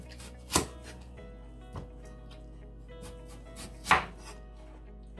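Knife cutting through a watermelon, two sharp, loud chops about three seconds apart with fainter cuts between, close by over a quiet low hum.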